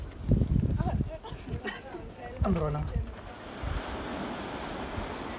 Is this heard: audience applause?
no